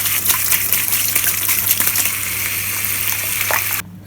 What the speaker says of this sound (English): we'll give them all a good rinse